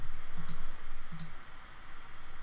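Keys on a Lenovo X1 Carbon laptop keyboard give two short pairs of crisp clicks, about a second apart, over a steady background hum.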